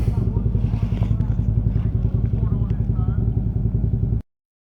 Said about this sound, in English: I got a sport bike. I converted it into a sport touring bike.